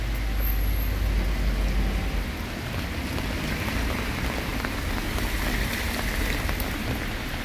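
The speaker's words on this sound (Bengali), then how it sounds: "কন্টিনিউ বৃষ্টি" Steady winter rain falls continuously in Italy, a dense, even hiss of drops on surfaces, mixed with the low rumble of passing road traffic.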